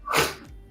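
A single sharp human sneeze, loud and close, bursting quickly and trailing off into a brief breathy tail.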